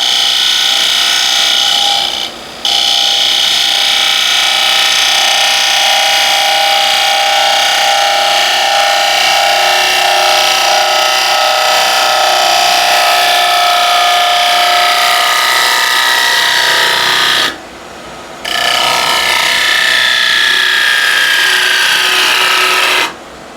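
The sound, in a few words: wood turning cut on a lathe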